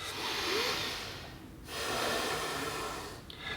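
A deep calming breath, heard close and alone as a long airy inhale, a brief pause, then a second long drawn breath.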